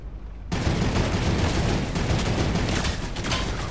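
Dense, sustained gunfire from a Fortnite match starts abruptly and continues loudly to the end with no talk.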